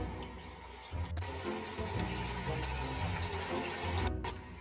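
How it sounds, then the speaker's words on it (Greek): Water runs steadily to fill a baby's bath at home, a dense, continuous rushing gush heard up close and fairly loud throughout, with a couple of brief clunks. "Τώρα ετοιμάζουμε το μπανάκι σου, μικρούλη μου."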